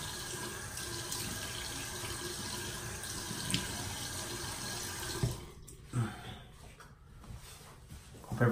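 Water runs steadily from a bathroom tap into a sink while a face is wetted before shaving, then the flow breaks up into splashes and handfuls of water, close by.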